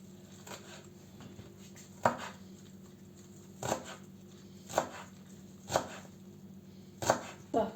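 Knife chopping homegrown green onions on a board for a spring salad, six or so sharp, separate cuts spaced irregularly, close and clear over a low steady background hum.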